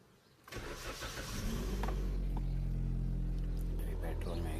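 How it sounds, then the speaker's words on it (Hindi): A Maruti Swift Dzire with a CNG kit and a misfire problem starts on petrol: the starter catches and the engine fires, then settles into a steady, loud idle close by. "ये गाड़ी तो अभी पेट्रोल में चालू होगी।"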